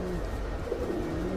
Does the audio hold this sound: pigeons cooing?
yes